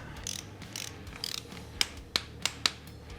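A torque wrench tightens S&S Cycle cam cover bolts on a motorcycle, giving a few soft ratcheting clicks followed by four sharp, close metallic snaps spaced unevenly over a few seconds.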